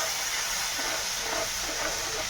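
Hot water poured into hot ghee and oil in a cooking pan sets off a steady, loud sizzling hiss that continues without a break, close by and with no talk.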